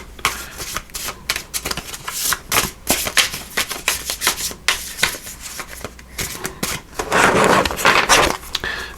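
Oversized tarot cards are shuffled by hand in a run of quick, close, papery riffling bursts that continue for several seconds with no talk.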